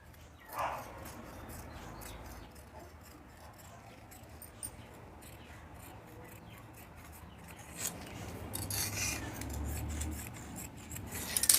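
Scissors snip through blouse fabric during tailoring, giving soft, close crunching cuts in short bursts with pauses, over a quiet room background and with no speech.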